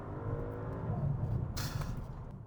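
An Audi RS7 in S mode accelerating hard under full throttle, a loud, close, steady engine roar with no talk.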